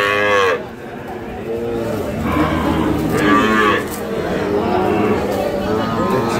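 Calves and cattle moo repeatedly at the busy Ambari livestock market, with several drawn-out, loud calls from nearby animals rising over a constant background of crowd chatter and movement.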